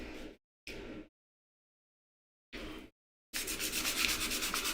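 Rough, scratchy sanding strokes on a knife blade: three short rubs separated by silence, then a longer continuous stretch of steady back-and-forth sanding, close and fairly loud.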